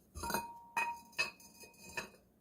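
A decorative piece set down into a clear glass dish on a home countertop, giving a few bright, ringing glass clinks that repeat about four times, close and fairly quiet, with no talk.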